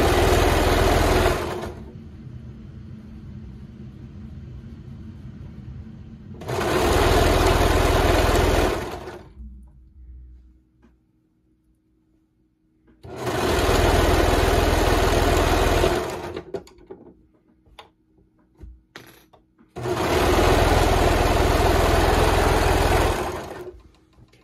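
A sewing machine stitches a tee shirt in four loud, steady bursts of several seconds each, with pauses of near quiet between them and no talk.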